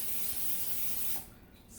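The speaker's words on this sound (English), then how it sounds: "Spray the pan." Cooking spray hisses out of a can onto a cold pan in one continuous close burst, then cuts off, leaving quiet room tone.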